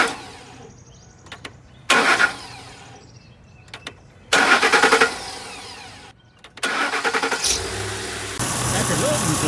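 2008 Ford F150 pickup engine bumped over in several short cranking bursts, then catching and running, heard close with gaps of quiet between attempts.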